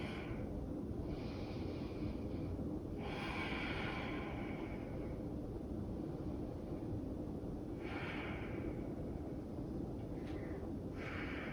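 Deep breaths taken during a dynamic yoga session, several slow breathy inhales and exhales spaced a few seconds apart, soft and close over a steady low hiss.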